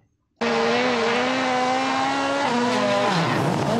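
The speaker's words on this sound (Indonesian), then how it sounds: "ini mobil balap" A loud, close race car engine roar starts abruptly and holds steady, then its pitch drops sharply near the end, like a toy car sound effect.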